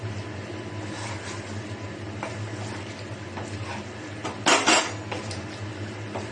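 Curry sautéing in a pan while a utensil scrapes and clinks against the metal, a steady low hum underneath and one louder clatter near the end, close by.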